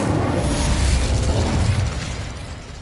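The Incendio fire spell is cast in Hogwarts Legacy, a loud fiery burst with crackling and popping that fades over a few seconds.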